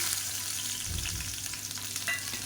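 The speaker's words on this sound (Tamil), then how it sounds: "இப்போ எண்ணெய் நல்லா சூடாயிருச்சு. 1 கைப்பிடி அளவுக்கு பொடியாக நறுக்குனா பூண்டு சேர்த்துக்கலாம்." Chopped garlic fries in hot sesame oil in a pan, giving a steady, moderately faint hiss and crackle with a brief stirring rustle partway through.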